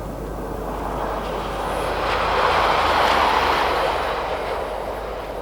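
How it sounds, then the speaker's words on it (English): A southbound Pacer diesel train passes redundant sidings on the northeast coast railway in Britain, a broad rumbling roar with wheel clatter that swells to a peak midway and eases slightly as it goes by. "From the redundant sidings, we see a southbound pacer."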